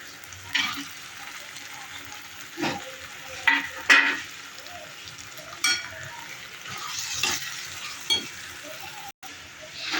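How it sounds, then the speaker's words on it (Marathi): Mutton goes into Kolhapuri-style masala frying in oil, giving a constant soft sizzle broken by sharp scraping and clattering bursts of stirring in the pot, close and fairly quiet, with no talking. "मसाला तेलामध्ये परतून झालेला आहे बघा आता आपण त्यात मटून टाकूया"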